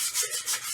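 Abrasive sanding along the sides of a wooden Telecaster-style guitar body, steady back-and-forth rubbing strokes, close and fairly loud, with no voices.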